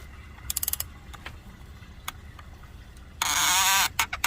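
A ratchet wrench tightens the positive battery terminal on a 2008 Toyota Avalon Limited, giving scattered clicks and then a short, fast burst of ratcheting near the end, close up with no speech.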